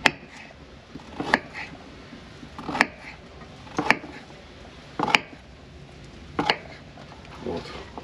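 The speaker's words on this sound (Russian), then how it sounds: "Это все нарезаем кружочками." A knife slices ingredients into rounds on a cutting board for Chinese sweet-and-sour pork: six sharp, evenly spaced chops about a second apart, close and crisp against a quiet kitchen background.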